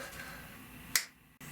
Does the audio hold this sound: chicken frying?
no